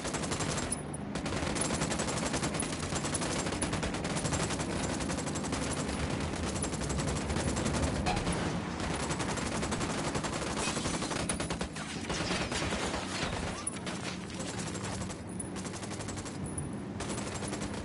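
Automatic weapons blaze in a tactical shooter game, dense sustained bursts of machine-gun fire rattling loudly almost without pause, with a few brief lulls.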